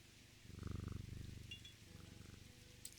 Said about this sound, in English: You're such a good kitty cat.